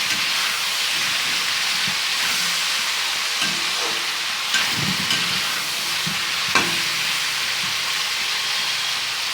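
Kundru (ivy gourd) fries with salt and turmeric in a kadai, a steady loud hiss and sizzle with a few soft stirring knocks and scrapes scattered through it.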